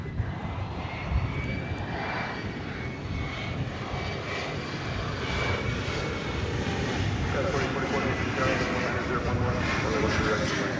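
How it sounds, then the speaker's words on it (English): An American Airlines Boeing 777-200ER jet sounds at a distance at Dallas Fort Worth airport, a steady broad engine rumble with a thin high whine that grows slightly louder toward the end, with talk faintly over it. "You see there, American Flight 290. That's a 777-200 ER."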